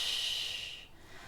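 A forceful breathy exhale during a Pilates mat ab exercise, a close airy hiss lasting about a second that fades out.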